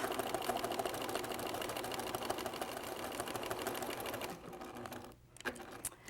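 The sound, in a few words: sewing machine stitching, perforating marked quilt pattern line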